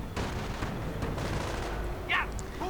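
Sniper gunfire in a video game battle, a dense wash of distant shots and rumbling explosions rolling continuously, with a brief higher whistle-like effect near the end.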